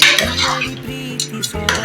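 A metal spoon scrapes and clinks against a pot of village-style chicken curry on a low flame in a steady stirring rhythm, close up, with a low tonal hum running underneath.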